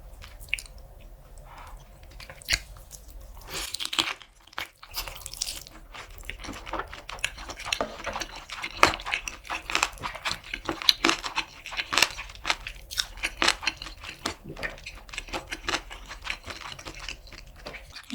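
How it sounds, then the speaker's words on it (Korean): Someone bites and chews Korean grilled chicken drumstick with sauce close to the mic. Irregular crunchy, moist chewing and biting sounds repeat over several seconds with brief pauses and no talk. "추블링 소스랑 같이 먹어볼게요."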